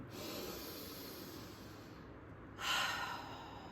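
A slow, breathy exhale during a Pilates hundred exercise, soft and close, followed by a brief louder rush of air near the end.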